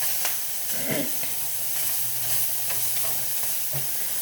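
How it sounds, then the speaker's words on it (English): Pasta is stirred in a pot of boiling water: a soft scraping swirl over a constant hissing, bubbling boil, close by with no talk. "The water started boiling, so put the pasta in, stir it up so it doesn't stick together."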